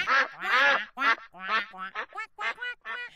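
Cartoon ducklings quack in a quick run of bright, nasal calls, a dense burst at first and then shorter separate quacks, close and clear with no talking, in an animated children's story.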